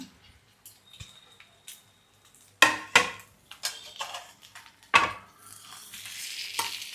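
An omelette cooking on a griddle in a home kitchen, with a faint sizzle broken by sharp metallic clanks and spatula scrapes, several loud knocks standing out amid intermittent handling noise.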